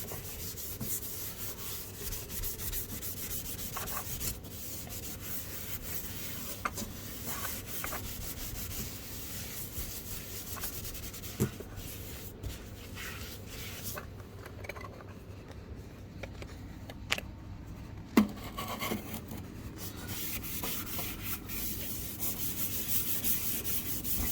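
Stainless steel sink being scrubbed, a continuous close rubbing and scouring sound with steady back-and-forth strokes and a few small knocks.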